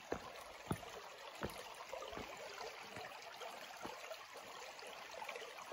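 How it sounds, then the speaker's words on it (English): A small stream on the Appalachian Trail trickles and burbles steadily in the background, with a few soft knocks or steps over the water's hiss. "we just walked up on this little stream here"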